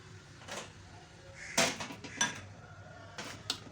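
Naan dough ingredients being mixed in a bowl, with soft clinks and knocks of utensils against the bowl and light shuffling, quiet and close, in a few irregular bursts.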